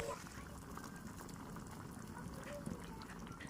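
Water bubbling at a boil in a pot for chicken curry gives a steady, dense simmering hiss with no break, fairly close and even throughout.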